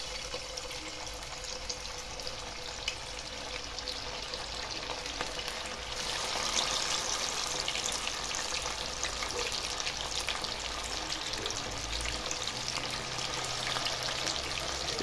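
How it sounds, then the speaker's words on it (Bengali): Chicken pieces fry in hot oil on a low-to-medium flame, a steady, dense sizzle that grows louder and busier partway through and carries on without letup. "তেলটা আমার গরম হয়ে গেছে। এবার আমি আস্তে আস্তে এগুলো ছেড়ে দেবে ভিতরে।"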